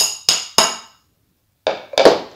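Parts of a Hauck Alpha plus high chair are knocked into place with a water bottle used as a hammer: three sharp, close knocks, a short silence, then two more hollow thumps.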